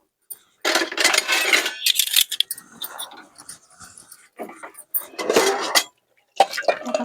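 Pots, pans and dishes clatter and clank in a home kitchen as they are taken out and put away, loud bursts of rattling metal and crockery in uneven clusters with quieter handling between them.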